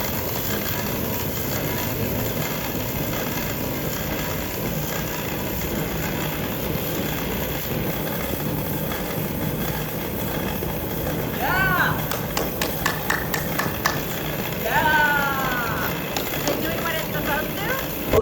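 A homemade modular jet engine runs with only its compressor and combustion chamber fitted, no turbine, giving a steady loud roaring rumble throughout while people talk briefly over it.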